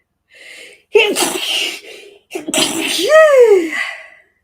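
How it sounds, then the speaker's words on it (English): A single loud, close sneeze with a sharp build-up and explosive release, preceded by a brief sharp intake of breath. "I'm going to sneeze"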